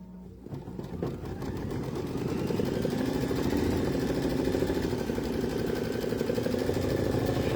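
A sewing machine runs steadily with a fast, rhythmic mechanical whir, stitching a single straight-stitch circle to attach the back of a Valentine swirl coaster, starting up after a brief moment and continuing alone.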